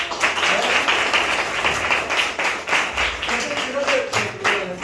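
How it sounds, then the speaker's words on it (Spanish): A room full of people at a primary school talk clapping in a sustained, busy burst of applause, with voices murmuring underneath. "le damos un aplauso"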